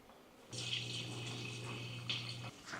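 Water sprays inside a GROWNSY Deepclean baby bottle cleaning machine, a steady hissing rush that starts abruptly, runs for about two seconds with a low pump hum beneath, then cuts off, close and fairly loud.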